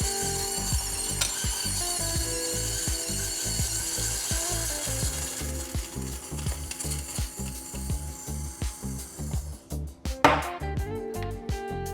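A coffee grinder grinds fresh beans for a single dose, a rapid, crackly, ratcheting burr sound in dense regular pulses, fairly close, ending with a brief whir and clatter.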